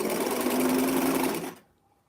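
A home sewing machine stitching a fabric seam with pins in place runs in a fast, steady buzzing whir up close for about a second and a half, then stops abruptly.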